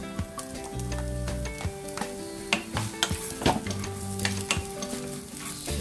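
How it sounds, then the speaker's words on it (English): Ginger and garlic stir-fried in hot oil for a Filipino chicken tinola, a steady close sizzle broken by irregular scraping and clinks of a utensil against the pan, with no talk. "stir fry until it absorbs the oil and blended with the garlic"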